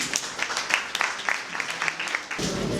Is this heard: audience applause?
yes